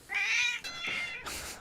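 A house cat meows loudly and close by, a long drawn-out meow followed by two shorter ones in quick succession, with no talking over it.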